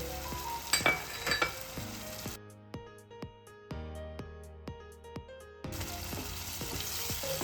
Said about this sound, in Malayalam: ഗ്രീൻ പീസ് വേവുന്നതിന് വേണ്ടിയിട്ട് നമുക്ക് ഒരു അര കപ്പ് വെള്ളം ഒഴിച്ചു.